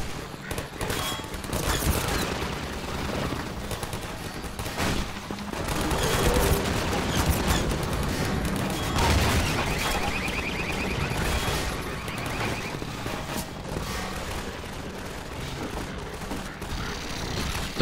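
Sentry guns firing in Half-Life 2: Episode Two, in the custom map Depot: continuous rapid automatic fire mixed with heavier booms, loud and busy throughout.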